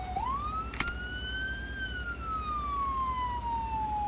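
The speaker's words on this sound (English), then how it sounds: "We hear the sirens." A siren swoops up and then glides slowly downward, a single long wail over steady background rumble.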